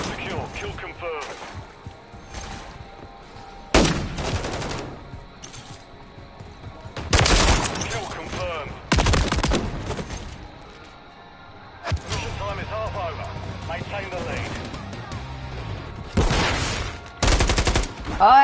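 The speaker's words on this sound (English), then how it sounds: "Did not mean to shoot at my teammate." Gunfire in Modern Warfare 3 (MW3) free-for-all: repeated bursts of loud automatic shots in several clusters, sharp and close, with quieter game ambience and faint talk between volleys.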